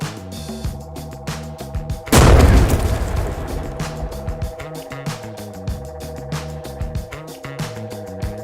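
A single sharp boom bursts loudly over a steady electronic backing track, followed by a brief decaying rumble as the music carries on.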